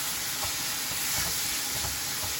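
Chicken liver fries in a karahi with a loud, continuous broadband sizzle and hiss, close and unbroken, with faint stirring pulses underneath and no voices.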